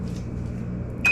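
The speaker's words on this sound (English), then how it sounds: "Now you stick your eggplant boats in the microwave to soften the edges." Microwave oven running to soften eggplant boats, a steady low hum followed by a brief bright beep at the end, heard close.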